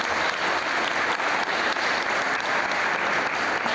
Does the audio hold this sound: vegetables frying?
no